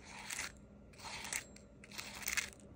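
The crust of a microwaved Gordon Ramsay frozen pot pie crunches in three quiet, close bursts of crisp crackling, separated by short silences.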